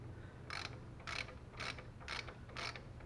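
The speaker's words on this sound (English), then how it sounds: "let's go ahead and tighten that bolt." A ratchet wrench clicks in five evenly spaced bursts about half a second apart while tightening a bolt on a 1999 Jeep XJ axle hub, close and fairly quiet over a low steady hum.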